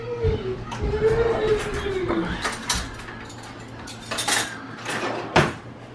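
Spoon taken from a pile of dishes in a home kitchen: several clinks and clatters of cutlery and crockery close by, over a steady low hum, with a voice talking now and then.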